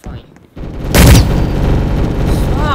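Gunshot in a Roblox shooter game, a sharp loud boom followed by a dense rumbling, ringing wash, with a voice speaking over it.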